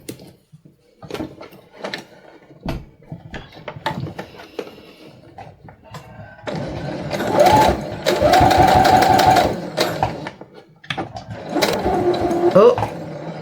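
A sewing machine stitches a fabric shopping bag holder, starting and stopping in several loud bursts of fast rhythmic whirring, with quieter handling noises between runs and in the first half.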